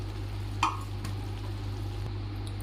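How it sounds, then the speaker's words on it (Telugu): Cooked rice is stirred into a boiling mixture in a pan while making a quick lunch-box rice dish: one soft scrape or clink early on over a steady low bubbling hum. "ఇలా మరుగుతున్న సమయంలో మనం ముందుగా ఉడికించుకున్న అన్నాన్ని ఇందులో వేసుకొని బాగా కలుపుకోవాలి"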